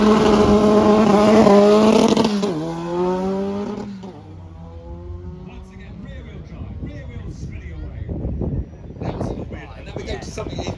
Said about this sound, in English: A Renault 5.